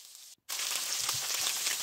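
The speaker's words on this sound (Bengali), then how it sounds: "তো এদিকে কাতলা মাছটাও ভাজা বসিয়ে দিয়েছি।" Catla fish pieces fry in hot oil, giving a close, steady sizzle and crackle after a brief gap of silence near the start.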